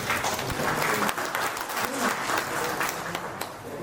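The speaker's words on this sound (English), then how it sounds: "Congratulations and clapping." An audience at a microfinance regulatory compliance conclave claps steadily for a few seconds, with a voice faintly under the applause.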